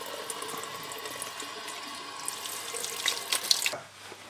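Kitchen tap runs steadily into a sink while salmon is rinsed, a continuous splashing hiss with small drips and bursts near the end before the flow cuts off abruptly.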